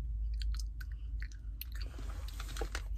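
A child chews gum right at the microphone, making steady, close, wet smacking and clicking sounds over a low hum, with no talking.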